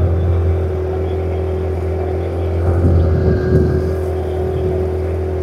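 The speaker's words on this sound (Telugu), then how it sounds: "అది మీ చెరువులో నీళ్లు ప్లస్ పడవ ప్రయాణం." A motorboat cruises across a lake, its engine droning steadily and loudly close by with a low, constant hum and faint water noise throughout.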